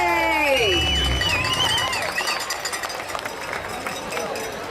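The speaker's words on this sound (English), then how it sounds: "Let's give them a huge round of applause. Come on, let's hear you cheer." Outdoor crowd at a Walk to End Alzheimer's charity fundraiser applauds and cheers loudly, with whoops and shouts over steady clapping that gradually thins; voices call out amid the noise.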